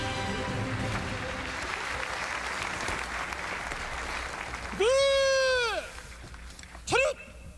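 Large outdoor crowd applauding at an Armed Forces Day military ceremony, a broad wash of clapping that fades, followed by loud whistle-like calls and a brief shout.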